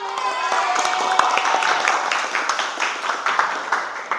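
A class applauds after a student's answer, a dense patter of many hands clapping steadily at moderate loudness, with faint talk under it.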